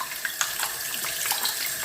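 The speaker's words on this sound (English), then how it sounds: "Now all we need to do is give this a good rinse" Tap water runs steadily over vegetables in a sink, a continuous splashing hiss with small spatters, close and moderately loud, with no voices.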